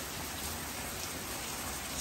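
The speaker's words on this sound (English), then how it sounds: "we've been having this downpour for about, I don't know, 5 to 10 minutes" Heavy rain pours steadily from a stalled storm line on a June evening in St. Charles, Missouri, a dense, unbroken hiss of drops hitting surfaces with no thunder and no voices.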